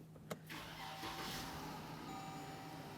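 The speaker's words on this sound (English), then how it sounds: "To do that, we're going to start the vehicle." A 2011-2021 Jeep Grand Cherokee 3.6L V6 cranks with a brief starter whir, then catches and settles into a steady, close idle that runs to the end.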